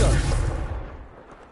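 A Confringo fire spell explodes in Hogwarts Legacy, a single loud boom with a heavy low-end burst that fades over about a second into a rumbling tail.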